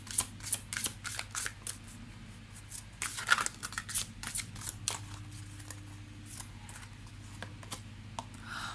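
Oracle cards are picked up and shuffled by hand close by, making quick papery flicks, slaps and soft riffles in irregular bursts over a quiet room hum.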